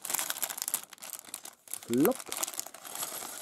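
A plastic bag of pieces from the Lego Minecraft 30432 turtle beach set is crinkled and torn open in short rustling bursts, close up, while a person talks briefly.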